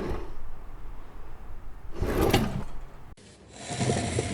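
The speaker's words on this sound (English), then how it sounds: "It sounded like someone was opening and closing a drawer" A wooden drawer slides open and shut upstairs in a quiet house at night, giving a rumbling scrape and then a firmer thump, heard close with a faint hiss behind it.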